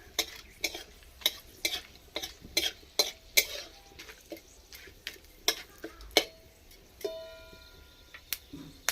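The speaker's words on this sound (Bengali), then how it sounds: "আর দুটো তেজপাতা ভালো করে ভেজে নেবো এগুলো" Bay leaves and cloves fry in a pan with a soft sizzle as a utensil stirs, scraping and clicking against the metal at an irregular pace, close by.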